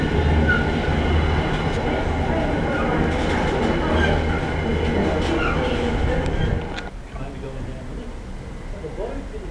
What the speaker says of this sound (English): Heading northbound as the rest of the 4L18 departs.